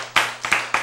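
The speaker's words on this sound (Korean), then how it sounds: "박수." Three sharp hand claps ring out in quick succession during a Korean church sermon, each a short crisp burst with faint room tone between them.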